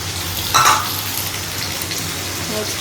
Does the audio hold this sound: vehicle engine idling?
no